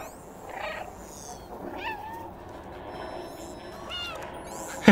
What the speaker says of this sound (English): They don't like it when I meow.